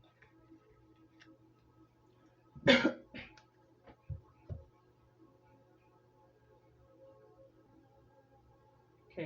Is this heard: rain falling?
no